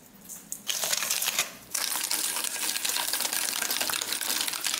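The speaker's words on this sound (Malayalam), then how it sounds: "ഒരു ബൗളിലേക്ക് മൂന്ന് മുട്ടയും ഒരു കപ്പ് പഞ്ചസാരയും ഇട്ട് ജസ്റ്റ് ഒന്ന് മിക്സ് ചെയ്യും." Three eggs and a cup of sugar are whisked in a bowl, giving a steady, fairly loud, close scraping and clicking that runs almost without a break after a brief start.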